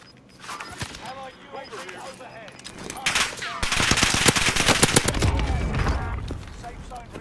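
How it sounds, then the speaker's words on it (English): Rapid machine-gun bursts and gunshots ring out in Call of Duty: Warzone on a beach, growing louder and denser midway, with a player talking over the firing. "I'm getting fucking shot from the fucking beach"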